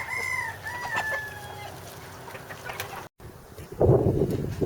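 Chickens cluck and squawk nearby in a lively, overlapping chatter, followed by a burst of scuffling noise as they crowd together over feed.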